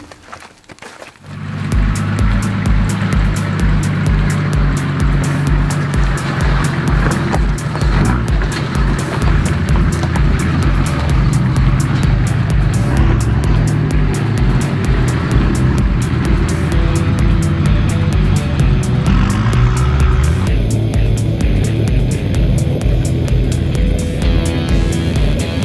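Modified Nissan GQ Patrol 4x4 driving off-road, its engine droning loud and continuous with a steady rumble and shifting load, heard up close with no talk.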